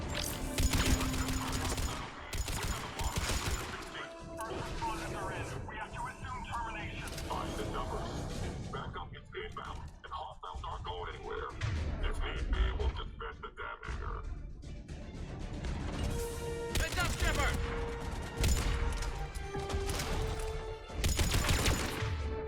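Gunfire in a Mass Effect 3 battle against Cerberus forces, a dense, continuous barrage of shots running throughout with bursts swelling near the start and end, mixed with game music and effects.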